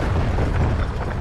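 A mortar round bursts in the war game Foxhole, a dense, rumbling boom that fills the short stretch with low, sustained blast noise and no clear talk on top.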